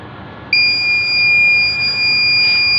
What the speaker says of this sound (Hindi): सिर्फ बैकअप का एलईडी जल रहा है लेकिन लगातार बीप मार रहा है